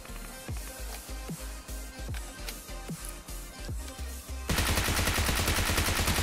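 Submachine gun fire from a UMP and a Bizon in PUBG at a military base: evenly spaced rapid shots, then a dense, loud burst of continuous automatic fire.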